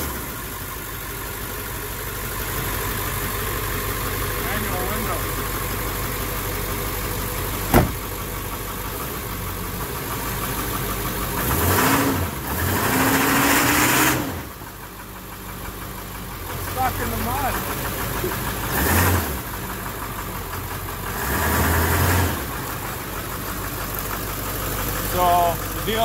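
A Ford Powerstroke diesel engine, thought to need injector O-rings, idles with a steady low knocking rumble throughout, while a person talks over it in several stretches.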